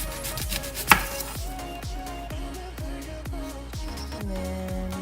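A knife slices through an onion on a board in a close, steady series of about a dozen crisp chops, one louder knock near the start, with no talking.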